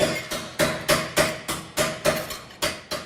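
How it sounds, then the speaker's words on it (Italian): Hammer blows ring on bent sheet of soft iron being cold-forged into a cowbell, about ten sharp metallic strikes in steady rhythm, close and loud, each decaying quickly. "Si piega la lamiera in questo modo, poi si prende il martello e si comincia la lavorazione."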